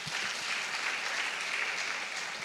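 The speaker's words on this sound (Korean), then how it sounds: "우리 박수 한번 칩시다." A church congregation claps in steady, dense applause throughout a children's dedication service, a continuous even wash of many hands, moderately distant with no voices on top.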